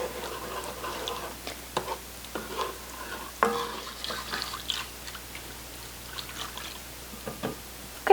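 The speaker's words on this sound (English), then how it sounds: "bring this up to a simmer and let this thicken" Apple dumpling sauce with cinnamon simmering in a pot, a spoon stirring and scraping in irregular soft clicks and swishes over a low bubbling hiss, close and fairly quiet, with no voices.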